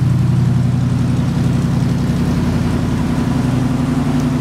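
A 1977 Ford Bronco with a 302 V8, dual exhausts and working choke runs just after a cold start, giving a loud, steady low idle rumble with an even pulsing beat and no talk.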